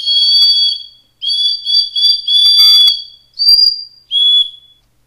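Small hardwood whistle with two drilled holes blown in a series of loud, shrill bursts, some warbling and trilled, others held steady at different pitches, close and alone.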